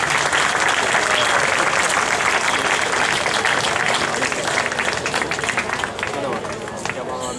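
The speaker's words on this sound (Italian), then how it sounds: "e qua l'applauso deve essere molto grande perché è la vincitrice per la scultura del premio Rotonda 2012" Loud, dense clapping from an audience at the Rotonda 2012 awards ceremony greets the winner of the sculpture prize. It runs continuously with crowd murmur mixed in and eases slightly toward the end.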